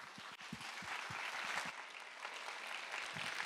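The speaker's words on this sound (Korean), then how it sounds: "우리 하나님께 박수 주시기 바랍니다" A congregation at a Korean Sunday church service applauds, a fairly faint, distant wash of many hands clapping that continues evenly for a few seconds.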